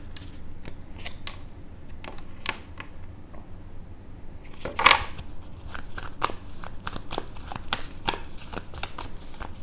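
Tarot cards being shuffled, a steady run of crisp, papery riffles and slaps close by with brief pauses between bursts, alone without talk.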